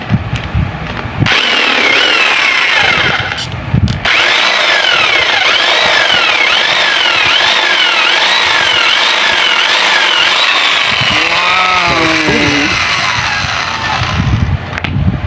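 An electric drill drives a reciprocating jigsaw attachment, a loud, steady motor whine with a rattling cut that runs almost nonstop, rising and falling in pitch. It drops out once briefly near the start and sags toward the end.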